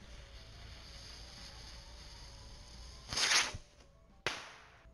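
A firework rocket launches from an Arduino-driven strandbeest walker, a sudden loud whooshing hiss that fades, then a sharp crack, over faint wind noise outdoors.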